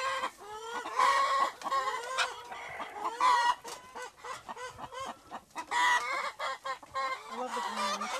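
A crowd of green-egg 'avocado' chickens in a farm henhouse, clucking and squawking in dense, overlapping calls close by, with no pause throughout.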